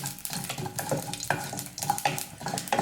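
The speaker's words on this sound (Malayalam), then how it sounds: "വറ്റൽമുളക് നന്നായിട്ടൊന്ന് മൂത്ത് വരട്ടെ." Dried red chillies fry in hot oil with popped mustard seeds, a steady close crackle and sizzle with a few sharp pops and occasional stirring scrapes, no voices.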